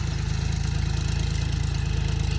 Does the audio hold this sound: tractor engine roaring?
yes